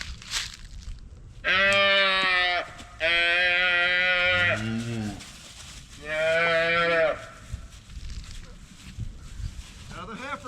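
Cattle moo in three long, loud, harmonic calls on a farm during calving, each lasting about a second or more, with quieter rustling and a voice speaking between them.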